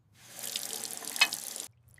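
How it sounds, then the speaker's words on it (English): Tap water running into a kitchen sink while dishes are washed, a steady close splashing flow for about a second and a half, with one brighter clink partway through, then stopping abruptly. "I wash the dishes"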